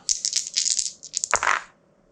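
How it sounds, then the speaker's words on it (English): Three dice rolled for a Dice Throne board game, a rapid clatter of tumbling dice that rattles on a hard surface for over a second and then settles, heard up close without talk. "I do get to roll 3 dice"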